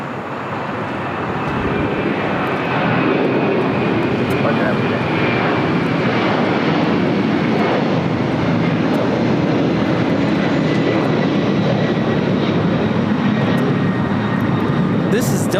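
Delta Air Lines Boeing 767-300ER taking off from LAX bound for JFK, a heavy jet roar swelling in after a quieter start and holding loud and steady, with people talking underneath.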